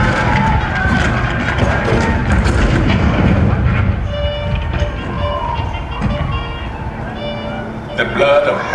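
Civil War cannon fire at Fort Sumter in April 1861, a dense run of heavy booming blasts that stays loud throughout, with a voice present over the roar.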